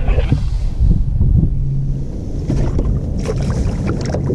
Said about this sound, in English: And the wind picked back up.